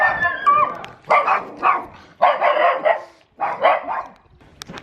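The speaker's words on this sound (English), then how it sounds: "I guess the dogs didn't recognize the English language walking in these little Italian streets" Dogs barking on a narrow Italian street: loud, close runs of repeated barks and sharp yips in three or four bursts, with brief pauses between them.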